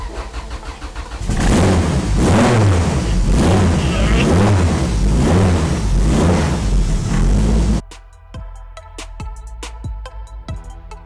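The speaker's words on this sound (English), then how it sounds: "so there now we're going to start up the machine" A drag racing car engine cranks and fires up loud and close, holding a heavy rumbling roar with rhythmic revving pulses for several seconds, then cuts off abruptly, leaving quieter background with scattered clicks and faint sounds.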